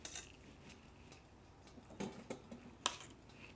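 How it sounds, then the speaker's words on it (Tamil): A fork lifts idlis out of a steamer, making a few faint, light metallic clicks and taps against the steamer plate, spaced irregularly in a quiet kitchen. "இப்போ இட்லி இப்படி ஃபோர்க் வச்சு எடுத்தோம்னா அப்படியே வந்துடும்."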